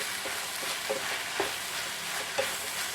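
Kovakka and prawn thoran stirred as it fries in a pan on a medium flame, a steady close sizzle with a few soft scrapes of a spoon, no voices.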